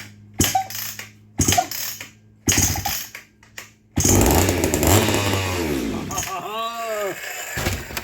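A vintage Sears Craftsman High Performance chainsaw with strong compression takes several sharp, rhythmic starter pulls, then fires up and runs loudly and continuously. Its engine note wavers as the throttle changes.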